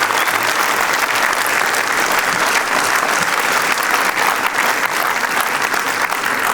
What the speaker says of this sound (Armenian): բոլորին ծափարենք։